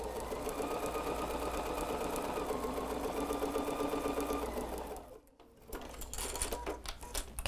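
A BERNINA 770 sewing machine stitches steadily in a fast, even whir for about five seconds, then pauses briefly and starts again more lightly. It sounds close and runs alone.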